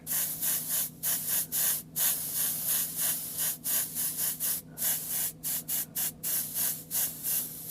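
Spray paint hissing from a can against a mask, a loud close hiss in short repeated bursts with brief pauses between passes.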